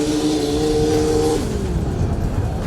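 A turbocharged Toyota Starlet drag car with a 2ZZ engine is heard at the drag strip, its loud engine note holding steady and then dropping in pitch as it passes close by.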